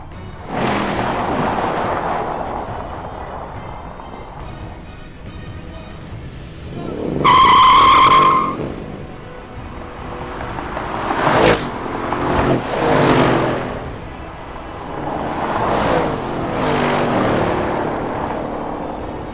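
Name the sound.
Audi RS6 and Mercedes-Benz CLS AMG accelerating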